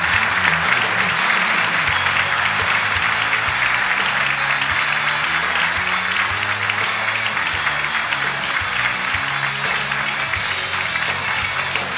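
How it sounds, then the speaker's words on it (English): Sustained, loud applause from a large audience at a student vehicle engineering competition awards ceremony, dense continuous clapping throughout with no speech. "Let's give a spirited round of applause to California State University,"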